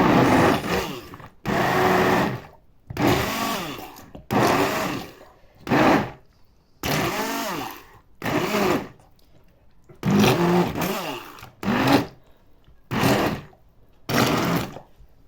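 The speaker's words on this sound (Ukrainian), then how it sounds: "Перебиваємо погружним блендером в одну річну" An immersion blender purees chicken liver pâté in about nine short, loud whirring bursts separated by brief pauses, with no talking.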